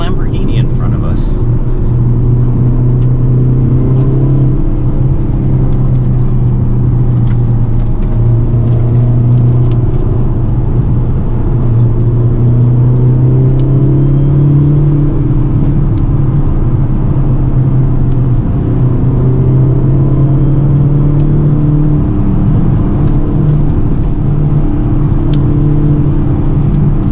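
A 2022 Hyundai Elantra N driven hard along a winding mountain road, its engine droning loud and steady with rising and falling revs and road rumble throughout.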